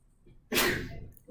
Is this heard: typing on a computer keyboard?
no